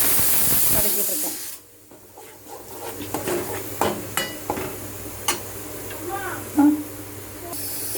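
Raw ground tomato, onion, ginger and garlic paste being sautéed in a home kitchen for masala puri, heard as a soft, steady hiss and sizzle with scattered stirring scrapes, fairly quiet and close.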